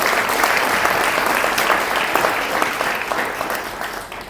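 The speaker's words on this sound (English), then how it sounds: "a round of applause for everyone" Loud, dense applause from the audience at a makeathon event, sustained and even throughout before easing slightly toward the end.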